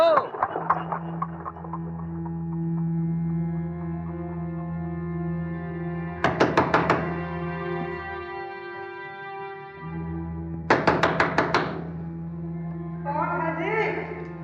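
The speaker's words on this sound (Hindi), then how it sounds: "आज के दिन भी हिंदुओं का दरवाजा खटखटा रहे" Someone knocks on a house door in a drama set during the 1947 Partition, with two clusters of sharp, rapid knocks several seconds apart over a low, sustained droning score.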